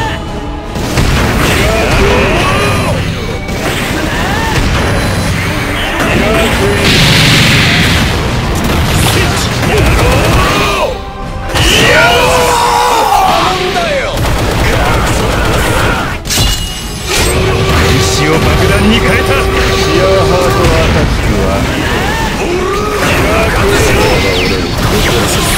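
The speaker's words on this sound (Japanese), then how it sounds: "爆発しろ。" Loud, repeated booms and crashing blasts fill an anime-style four-versus-four fighting game battle, arriving in dense bursts over continuous music and effects, with a few brief gaps between flurries.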